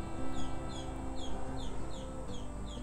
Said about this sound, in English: just looking what that chicken's cheeping at.